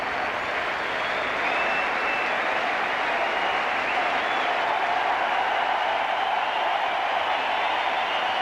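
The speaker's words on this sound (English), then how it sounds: "Huge cheer from everyone here." A packed crowd at the Sydney Cricket Ground cheers and applauds as Allan Border walks off during the Australia vs South Africa World Series final, 1993/94; a steady, roaring wall of clapping and cheering fills the whole stretch.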